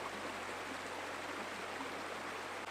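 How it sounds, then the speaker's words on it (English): A small New Mexico waterfall gives a steady, faint broadband rush of falling water, constant and unbroken throughout with no other sounds. "this is the waterfall that I have now, right there."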